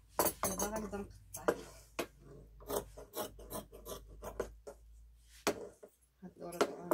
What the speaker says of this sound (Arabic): دابا غنبدا نقطع